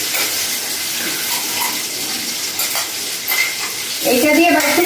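Ginger, dried red chilli and cumin sizzle and fry in a pan for ghugni, a steady close hiss with stirring scrapes, and a voice talks over it near the end.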